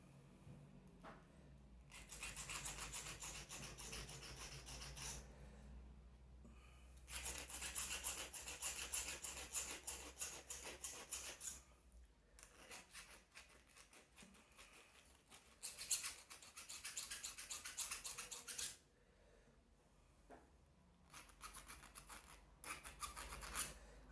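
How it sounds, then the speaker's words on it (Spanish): A hand file rasps across a cut handicraft piece to smooth its rough edges, in repeated forward strokes that come in bursts of several seconds with short quiet pauses between them and no voices. "Aquí cuando quedan desperfecciones en el corte, ustedes van reparando esa parte con la lima, siempre hacia adelante, con confianza."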